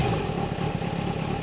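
A carbureted 1999 Kawasaki ZRX1100 engine runs briefly at a steady idle, a low, fairly quiet rumble with slight unevenness and clatter, and no voice over it.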